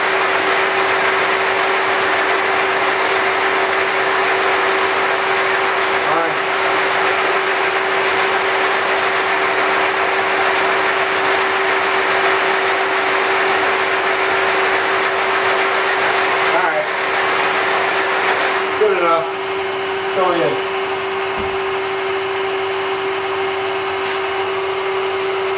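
A Kearney & Trecker milling machine runs with a steady, loud mechanical drone and a constant motor whine, with brief scraping cutting bursts near the end.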